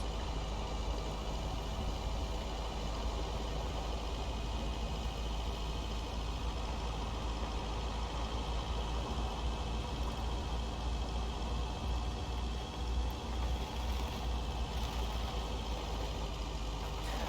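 A vehicle engine in the video game Lake hums steadily and quietly throughout, a continuous low drone with no breaks.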